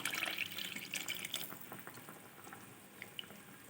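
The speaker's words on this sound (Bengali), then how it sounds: "এবার এতে অ্যাড করে দিচ্ছি আরও কিছুটা পরিমাণ জল" Water is poured into a cooking pan during a fish dish with poppy seed paste, a splashing, trickling pour that is strongest for the first second and a half, then thins to scattered drips.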